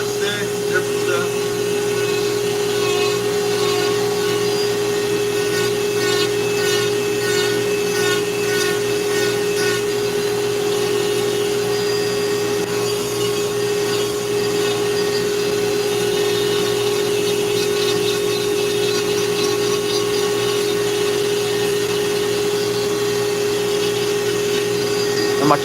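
A Dremel rotary tool fitted with a Kutzall burr carves wood, giving a steady, loud, high-pitched motor whine that runs unbroken for the whole stretch with little change in tone.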